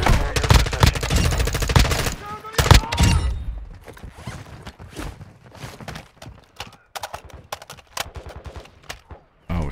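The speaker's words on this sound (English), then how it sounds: "I already hear gunshots." Rapid bursts of gunfire in Call of Duty DMZ, loud clustered shots early on, then scattered sharper cracks and distant shots, mixed with game effects and a player speaking.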